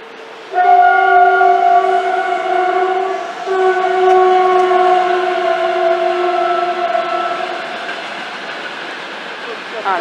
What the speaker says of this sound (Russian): Та, видать, электричка,